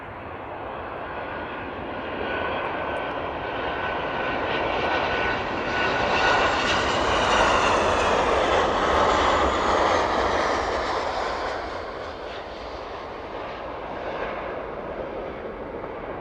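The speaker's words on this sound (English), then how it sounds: "Eastbound from the Ryanair 737 there." A Ryanair Boeing 737 jet at East Midlands Airport roars past close by, a loud broad engine rush that builds, peaks mid-pass and slowly fades away.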